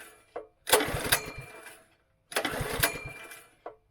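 A small petrol pressure washer engine with a leaking carburettor is pulled over twice, each attempt a close rough burst of sputtering engine noise lasting over a second, with short knocks between and near-silence separating them.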